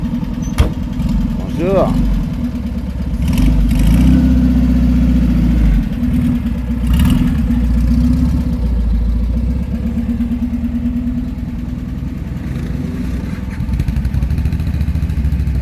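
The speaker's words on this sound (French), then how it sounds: "Ça, on prend le bruit du moteur." A steady, low Volkswagen Beetle engine rumble, 1000 cc, runs throughout at close range at a classic car event, with a brief spoken greeting near the start and some faint background clatter.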